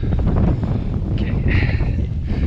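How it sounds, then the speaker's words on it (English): Wind gusts buffet the microphone on the exposed mountain ridge of Striding Edge, a loud, steady roar of rumbling wind noise with no talking. "Every now and then there is a wind gust that, although not too bad, you never know if it will push you off balance or not."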